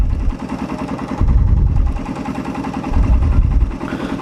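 Motorcycle engine started and idling for an engine knock check, a close, steady low rumble with a pulsing beat and two swells in loudness.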